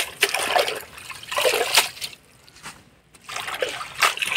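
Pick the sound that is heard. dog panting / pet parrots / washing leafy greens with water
washing leafy greens with water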